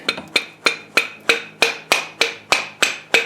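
A hammer taps a universal joint into place, about ten sharp, evenly spaced metallic strikes, each ringing briefly, close and loud with no voices.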